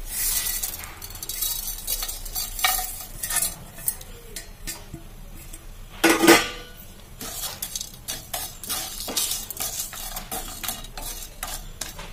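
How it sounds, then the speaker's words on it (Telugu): Cumin seeds and spices fry in a pan under a light sizzle, broken by repeated scrapes and clinks of a spoon stirring against the metal and one louder clatter near the middle; no talking. "ఒక స్పూను జీలకర్ర ఇప్పుడు ఇవన్నీ వేయించుకుందాం"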